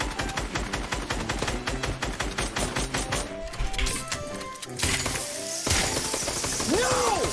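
Rapid automatic gunfire from the Fortnite video game rattles off in a long, loud burst of evenly spaced shots, followed by further blasts and clattering effects while game sounds continue.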